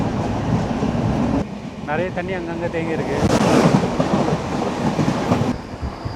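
Passenger train running steadily on the Chennai to Chengannur route, a loud continuous rumble and rattle heard from inside, with someone talking over it.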